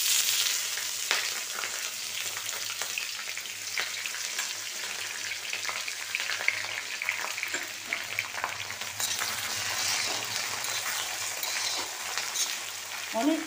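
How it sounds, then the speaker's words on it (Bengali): Onions fry in a pan for a home meal, a steady dense sizzle with occasional stirring scrapes, close and continuous, no voices. "তা আমি পেঁয়াজটা ভাজতে থাকি আর তোমরা দেখতে থাকো"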